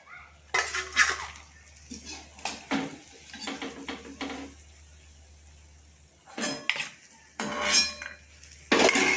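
Fried egg chops are lifted out of a pan with metal utensils, heard as repeated close scrapes and clinks against the pan over a low background hum, with faint sizzling between the strikes.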